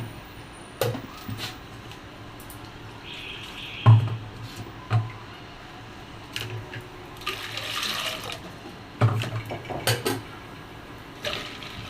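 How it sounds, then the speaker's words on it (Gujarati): Cold water is poured into a vessel of pani puri dough ingredients in short splashing runs, with occasional clinks of utensils against pots; fairly quiet, no talking. "હવે આપણે પાણી ઉમેરીશું ટાઢું"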